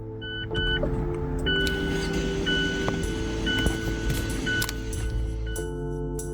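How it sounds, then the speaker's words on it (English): The electronic parking brake on a Mazda CX-9 releases with a steady mechanical whir of a small motor, heard close and continuous with faint clicks, with no talk over it. "that was the sound of the parking brake disengaging"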